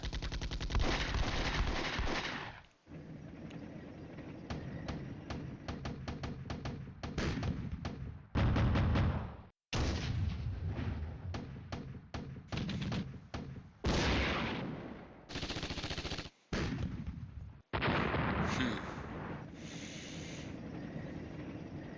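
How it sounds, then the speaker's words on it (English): Artillery and gunfire in Flashpoint Campaigns: Red Storm crackle in dense bursts of rapid shots and booms, broken by brief gaps of silence across the stretch. "So their artillery is going to have a field day this round, I'm afraid."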